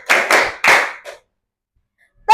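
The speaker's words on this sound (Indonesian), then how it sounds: "Bu Nita mau dengarkan nih tepuk tangannya yang keras" Three loud, close hand claps in quick succession followed by a softer fourth, then a pause before another sharp sound at the end, part of a rhythmic clapping exercise in a classroom.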